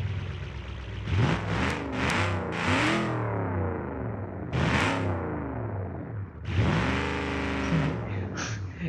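A loud 400-horsepower V8 derby car engine revs hard several times in rising, whining bursts with short pauses between, ending in a sustained high-revving roar.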